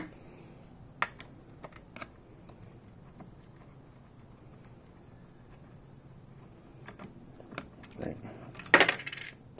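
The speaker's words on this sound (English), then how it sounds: "there's two washers that just fell out of that one" Small metal washers dropping out of a MotoTec Thor brake assembly give a few light clinks and taps, with a brighter metallic clatter near the end, close and otherwise quiet.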